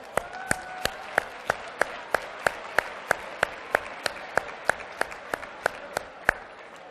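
Slow, evenly spaced claps, about three per second, continuing for nearly seven seconds at a training session; sharp, crisp hits that sound like a single pair of hands or a small group, with faint room noise between.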